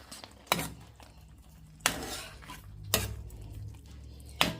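Baked ziti mixture with sausage being stirred as Parmesan is mixed in, giving a few soft scraping clinks of a utensil against the dish spaced across a quiet kitchen background.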